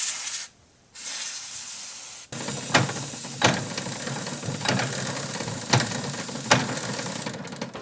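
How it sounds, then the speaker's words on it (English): Aerosol can of 3-in-1 white lithium grease hissing steadily during snowblower maintenance, a continuous spray broken by several sharp mechanical ratcheting clicks, close and moderately loud. "this is just a 3-in-1 white lithium grease in an aerosol spray can"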